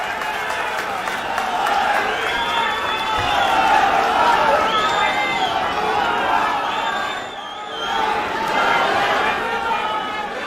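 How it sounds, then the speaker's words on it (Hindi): A large outdoor political rally crowd at Jantar Mantar claps and chatters in a sustained roar for Arvind Kejriwal's welcome, dipping briefly before swelling again. "जोरदार तालियों से स्वागत करिए।"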